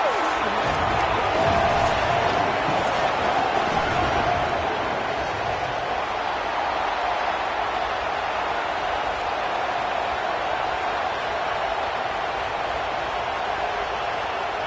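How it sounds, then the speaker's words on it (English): Home crowd in the College Football 27 video game, Razorbacks stadium before kickoff: a steady, loud roar of many voices that fills the whole clip without letup. "The Razorbacks kickoff unit is ready, and so is this home crowd."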